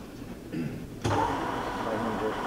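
A Deckel universal horizontal/vertical mill spindle starts with a sudden onset and keeps running as a quiet, steady hum, preceded by brief low murmuring.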